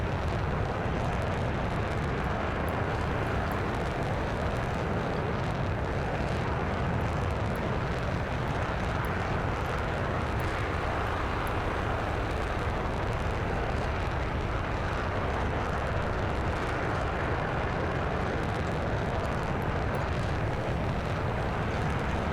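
Jet engine roar from the Flyout flight game, a dense steady rumble held loud and unbroken for the whole stretch as the aircraft pulls a hard turn, no voices over it.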